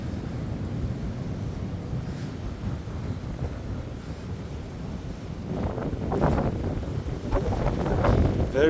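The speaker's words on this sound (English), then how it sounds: "Very windy." Steady rumbling wind buffets the microphone, a constant low roar that grows louder and gustier toward the end.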